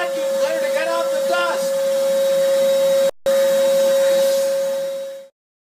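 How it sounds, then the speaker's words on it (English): A vacuum cleaner runs close and loud with a steady whining hum, cutting out briefly partway through before running on and then stopping, with a voice speaking over the start. "keep it clean using a vacuum cleaner to get out the"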